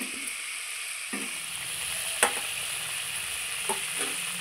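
Fried pabda fish is stirred in a simmering mustard and poppy-seed gravy with whole green chillies, making a steady soft sizzle with a few scraping knocks of the spoon against the pan, close and alone.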